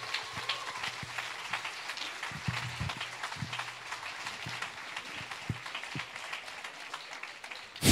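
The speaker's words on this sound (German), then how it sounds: "Und dann gibt es nochmal einen fetten Applaus für den Künstler und nicht für die Wertung." Applause for a poetry slam performer at a live slam event, a steady dense patter of many hands filling the room, moderately loud, with a few brief voices underneath.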